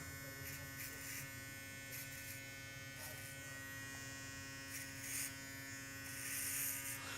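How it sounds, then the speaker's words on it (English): An electric hair clipper motor buzzes steadily through a fade haircut, a close, constant whine with a few brief rises in pitch as the blade works through the hair. "you can actually hear the motor speeding up"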